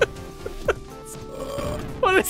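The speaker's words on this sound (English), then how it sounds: "We're just burping and vomiting on police." A character burps repeatedly in the arcade-style game Bloodwash, with several short guttural eructations, the loudest at the start and near the end, over a steady game music background.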